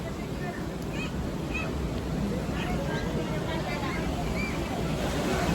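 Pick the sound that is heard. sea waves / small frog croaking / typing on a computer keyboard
sea waves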